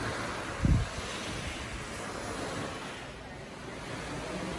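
Waves washing onto a very private secluded beach at LimeTree Resort on St. Thomas, a steady soft surf hiss mixed with wind noise and a brief low thump early on.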